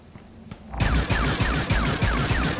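A gun in a video game starts firing after a quiet lead-in, a rapid, loud, evenly spaced string of shots that keeps going to the end.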